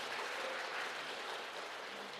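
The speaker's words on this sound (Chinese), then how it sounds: "来拍手拍手" A church congregation claps for a shy children's choir, a steady, dense wash of applause from many hands filling the room at even loudness, with no talking over it.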